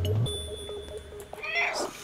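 A cat character in the video game Stray lets out a short meow near the start, followed by electronic game tones, beeps and a brief rising chime, all fairly loud and close with no talking.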